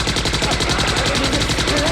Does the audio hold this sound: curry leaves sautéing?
no